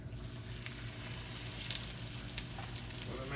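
Almond-crusted tilapia frying in hot grease in a fryer, a steady, fairly quiet hiss and crackle with a few brief pops, heard alone at close range.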